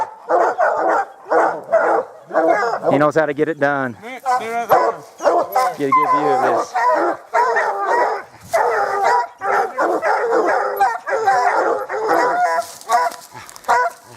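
Hunting dogs bark excitedly and repeatedly during a black bear hunt in Utah, their loud yelps and whimpers close by and mixed with someone talking.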